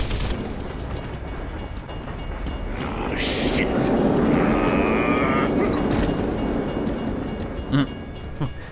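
Moving train in the Gears of War video game, a loud continuous rumble and clatter of rail cars that swells in the middle with metallic squeals and a sharp clank near the end.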